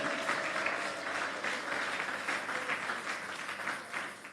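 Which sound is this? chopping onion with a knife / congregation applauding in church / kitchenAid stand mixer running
congregation applauding in church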